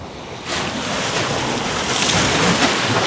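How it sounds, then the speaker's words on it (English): After a brief quiet moment, sea waves on the Latvian coast break and rush in with a loud, continuous hiss of surf, mixed with gusty wind buffeting the microphone. "I'm gonna try and dodge some of these rogue waves."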